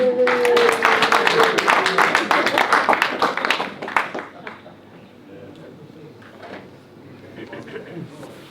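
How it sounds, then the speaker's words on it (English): Audience at an annual general meeting applauds a second-prize winner, loud dense clapping for about four seconds that then thins to scattered claps and quiet room noise. "So let's have some tumultuous applause for Colin."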